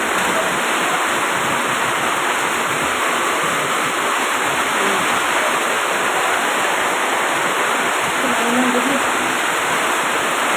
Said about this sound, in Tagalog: Ito ang ulan. Ito ang ulan talaga.